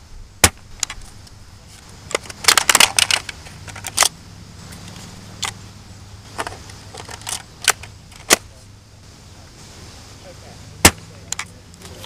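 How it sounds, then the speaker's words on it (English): Nerf-style ZombieStrike SledgeFire toy blaster fired outdoors in a range demo, with sharp individual pops and snaps spaced irregularly, some clustered in quick bursts, alongside mechanical clacks of reloading and priming. "So this is going to be 3 level triple shots with the SledgeFire."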